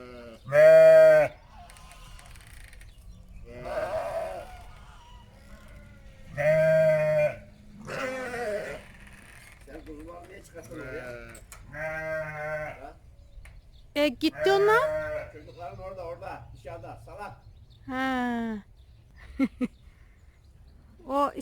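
Sheep and newborn lambs bleat on a village farm, several loud, close calls scattered among quieter ones, with people talking in between.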